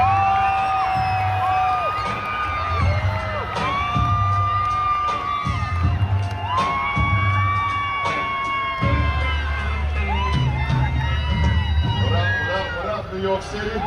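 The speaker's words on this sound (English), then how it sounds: "Big round of applause for our host, LeBron James." A large crowd at Fanatics Fest in New York City cheers, whoops and shouts loudly and continuously, an energetic arena-style roar with an amplified announcer voice talking over it throughout.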